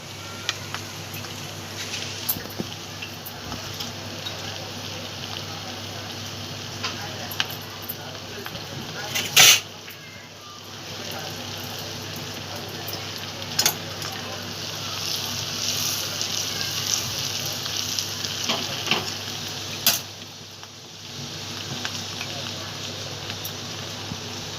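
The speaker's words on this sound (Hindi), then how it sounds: "अब हम तड़के के लिए लहसुन डालेंगे ये मस्के में, और ज़ीरा।" Garlic and cumin sizzle in butter for a tadka, a steady soft frying hiss with a few sharper pops, heard under someone talking.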